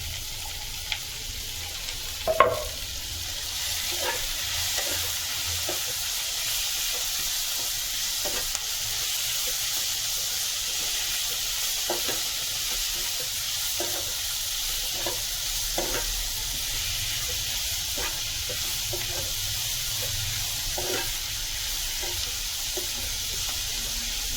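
Tomato and garlic sizzle steadily in a pan for a home-style chicken curry, fried after the onions, with repeated scraping stir strokes and one sharp clack early on, close and continuous without talk.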